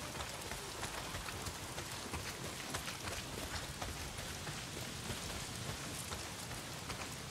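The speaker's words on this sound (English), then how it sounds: "Well, not if it's pissing down rain." Steady heavy rain pours as a dense, even hiss in the Days Gone video game, constant and enveloping with no voices.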